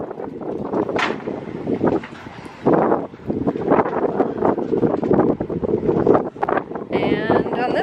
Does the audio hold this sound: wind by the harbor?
yes